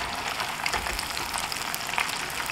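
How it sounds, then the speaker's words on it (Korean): Battered fish pieces getting their second, high-temperature fry in hot oil for Chinese sweet-and-sour fish: a steady, close hiss of bubbling oil with small crackles and pops throughout. "2차 튀김 할 때는 더 튈 수 있습니다"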